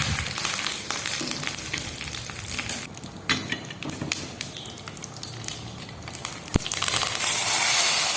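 A tempering of mustard seeds, dried chillies and curry leaves crackles and sizzles loudly in hot oil for a cucumber curry, with dense continuous frying noise, scattered pops and a sharp metallic clink near the end.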